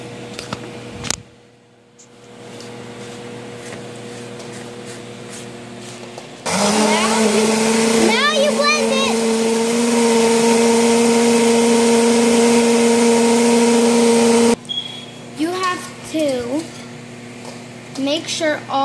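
A kitchen blender crushes peppers for a red sauce, starting abruptly and running as a loud, steady whir for several seconds before cutting off. A person talks before and after the motor runs.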